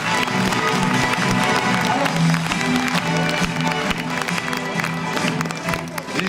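Audience applause at a short film festival awards ceremony, lively clapping with some cheering and crowd noise, while music plays underneath.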